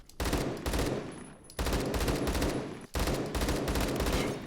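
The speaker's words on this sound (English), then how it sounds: "don't use this thing on semi because it's just like a really annoying to use gun" An AK12 fitted with a BARS barrel fires in Roblox Phantom Forces, three rapid automatic bursts of loud, close gunshots separated by brief gaps.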